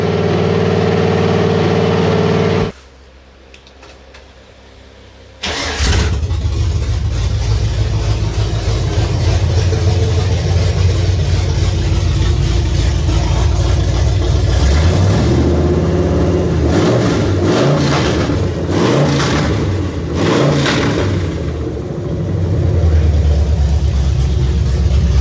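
Fire truck engine being run in, a loud close drone that drops to a lower idle for a few seconds, then returns strong with repeated rising revs.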